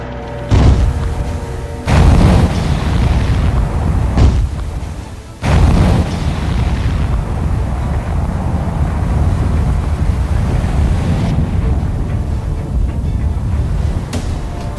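Heavy underwater explosion from a torpedo bubble-jet effect test: a series of deep, loud booms and rumbling bursts, followed by a long, continuous churning roar of water with no voices.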